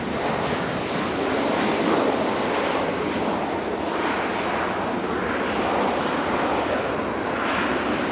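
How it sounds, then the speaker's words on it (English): Southwest airliner touching down at Raleigh-Durham airport, a broad, steady roar of jet engines and wind noise at moderate distance, sustained throughout with no voices. "Southwest touching down."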